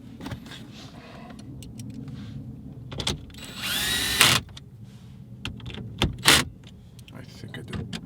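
A power drill's clutch slips and ratchets while driving a screw into plastic trim during a radio installation in a 2010-2014 Volkswagen Golf GTI, heard as a couple of short buzzing bursts amid handling noises.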